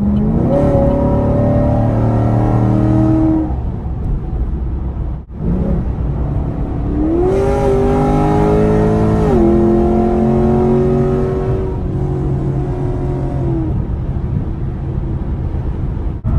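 A Chevy SS (Holden Commodore) engine with long tube headers and an X pipe revs hard through the gears, rising in pitch, dropping briefly at a shift, then climbing again loud and close.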